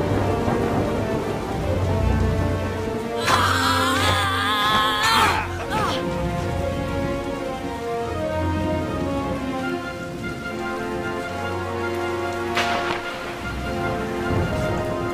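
A storybook thunderstorm with steady heavy rain, rolling thunder swelling twice, and faint musical tones underneath, no voices.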